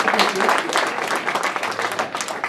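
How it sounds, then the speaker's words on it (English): Audience applause at a Nairobi conference on Africa Day fills the room with a dense, steady wash of clapping that holds for the whole stretch, with some voices mixed in. "Let's give it a round of applause."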